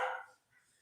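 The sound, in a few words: dogs barking and growling over food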